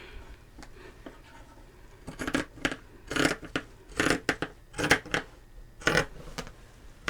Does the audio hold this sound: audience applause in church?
no